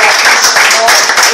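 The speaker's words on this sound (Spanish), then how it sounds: "Bríndale un fuerte aplauso al Rey de Reyes y Señor de Señores." Congregation applauding during an evangelical church service, a dense continuous wash of clapping from many hands throughout.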